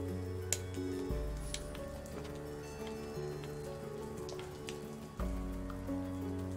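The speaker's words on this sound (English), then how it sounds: "Look, it's raining and shit." Rain in the video game Unravel Two, a steady patter of drops on surfaces running under sustained tonal game music, with no talk.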